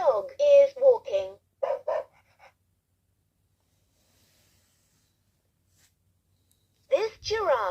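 A LeapFrog Learning Friends interactive book plays a dog barking: a cluster of short, sharp barks, then several seconds of silence, then another burst of barking.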